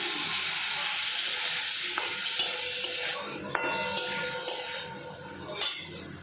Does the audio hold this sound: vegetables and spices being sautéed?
yes